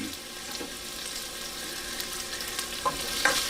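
Onions sauté and caramelize in a pan for Filipino beef mechado, a soft, steady sizzle with faint occasional stirring clicks, fairly quiet and alone.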